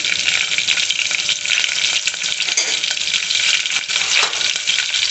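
Onions and green chillies sizzle steadily in a hot pan of oil, a dense continuous frying hiss with light stirring, close and loud throughout.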